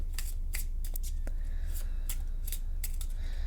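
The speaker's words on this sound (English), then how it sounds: "So around here we shuffle until Spirit tells me to stop." Lenormand tarot cards are shuffled by hand, crisp riffling snaps and flicks repeating irregularly over a steady low hum, close and fairly clear.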